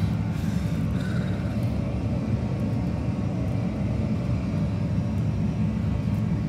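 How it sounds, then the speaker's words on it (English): A steady, loud airplane engine rumbles in flight, a continuous low-frequency drone with no breaks and no voices. "I'm flying a plane."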